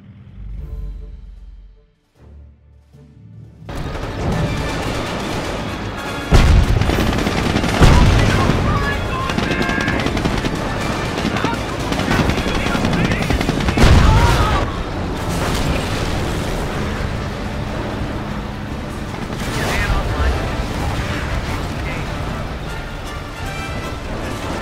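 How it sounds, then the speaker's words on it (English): Artillery fire from howitzers laying a creeping barrage in a WWII strategy game at Authie during the Liberation of Caen, with dense continuous rumbling explosions and bursts loud throughout after a quiet opening. "have the howitzers order a creeping barrage to clear any potential threats"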